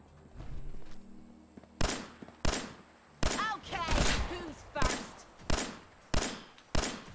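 Gunfire in the video game Fallout 4 rings out as about eight sharp, loud shots spaced irregularly, with vocal grunts and a voice between the shots.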